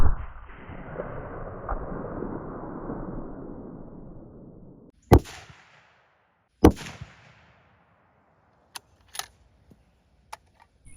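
A .30-06 rifle firing Remington Core-Lokt 165 grain rounds into ballistics gel: a long stretch of rumbling noise, then two sharp, loud cracks about a second and a half apart, followed by a few faint clicks.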